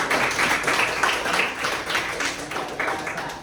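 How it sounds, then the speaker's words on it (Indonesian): Classroom applause for a student's answer in a science lesson, a steady patter of many hands clapping, moderately loud and fairly close, with faint voices mixed in. "tepuk tangan untuk itu"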